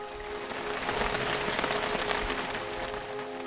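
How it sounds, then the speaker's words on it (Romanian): Steady summer rain falls on a rainy day in a Romanian village, a soft, even patter of drops on surfaces at moderate distance that goes on without pause and with no voices. "E o zi ploioasă de vară."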